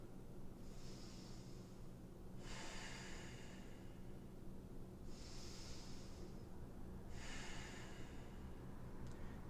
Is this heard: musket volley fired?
no